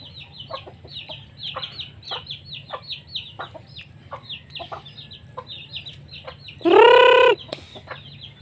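Backyard chickens, including a hen with white chicks, cluck in a rapid, repeated series at feeding time, close by, with one louder drawn-out squawk near the end.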